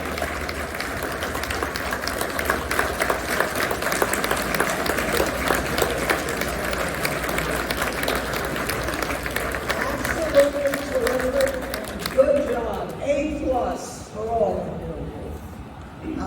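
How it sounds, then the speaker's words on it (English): An audience at the Hamvention amateur radio Youth Forum claps for the young presenters, a steady ripple of applause mixed with voices and movement in a large hall, thinning out near the end as talk continues. "let's give a big round of applause to all of the presenters today"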